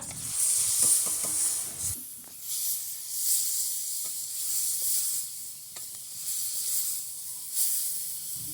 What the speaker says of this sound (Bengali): সোনালি ভাজা ভাজা হলে দিতে হবে শাকটা।